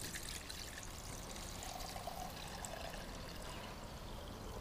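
Carrot juice pours steadily from a juicer collection bowl into a measuring cup, giving a continuous close trickling and splashing stream with no talk over it.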